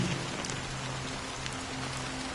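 Steady, close video game rain pattering on a surface in Honkai: Star Rail, a constant hiss of drops with no pauses and no voices.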